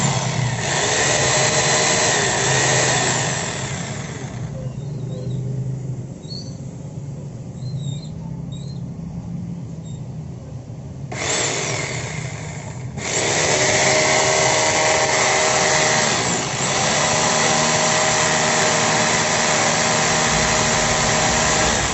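Makita HR2470 rotary hammer drill running with freshly replaced carbon brushes, a steady close motor whine that drops off briefly mid-run then picks back up at full speed.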